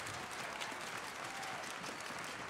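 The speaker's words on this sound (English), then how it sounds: "let's just give a quick round of applause to Angie and the staff at Music in the Mountains" Audience at a school music extravaganza in Bayfield giving a quick round of applause, a continuous wash of clapping from a crowd, faint and uniform.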